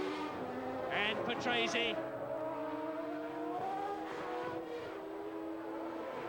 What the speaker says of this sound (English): Senna going through to complete another lap.